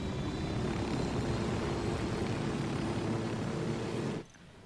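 A helicopter in the tactical shooter Ghost Recon Wildlands, a steady loud rotor and engine roar filling the air, then cutting abruptly to a quiet hum near the end.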